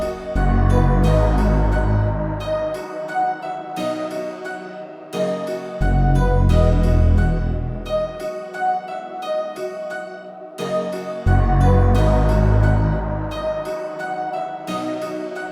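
A distorted Omnisphere synth moves through a chord progression in loud, sustained phrases, with a deep bass swelling in and dropping out every few seconds, no voices.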